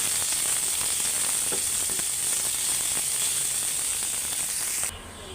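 Steady, loud sizzling of curry cooking in a hot pan, with a few faint clinks and scrapes; the sizzle drops slightly near the end.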